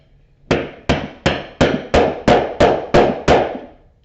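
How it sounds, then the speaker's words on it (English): Nine loud, evenly spaced metal strikes from a heavy 24-ounce maul hitting a rivet, each a sharp ringing impact with a short decay, close and alone. "So I'm going to use my heavier maul. It's 24 ounces, I believe."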